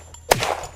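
A single sharp pistol gunshot in the video game Unturned cracks out, brief and loud, followed by a short rumbling tail against a faint steady background hum.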